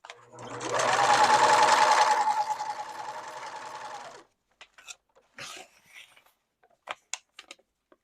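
Domestic sewing machine running a short test seam with the tension dial set tighter, a steady close whirring motor burst of about three seconds, then quiet with scattered small clicks and handling noises.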